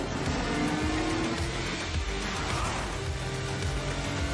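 A kart in a video game drifting on a racing track themed after Monsters Inc., with a continuous loud engine roar and tire noise, dense and steady throughout, with no talk.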